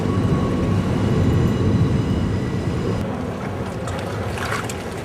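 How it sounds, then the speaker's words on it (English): Waves lap steadily at the Thames foreshore at low tide, making a broad, continuous wash of water noise with wind rumble, loud and close throughout, with no talk. "The waves are constantly lapping at this part of the foreshore"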